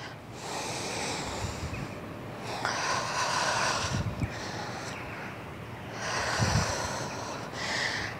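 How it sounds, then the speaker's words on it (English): Long, deep breaths during a no-equipment Pilates leg and glute workout come in several close, rushing inhale and exhale cycles, loud and breathy, with no talking. "Long deep breathing."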